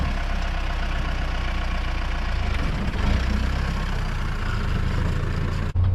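A Mahindra Roxor engine idles and pulls away with a low steady rumble, close and fairly loud throughout, with a brief dip and knock near the end, and no one talking.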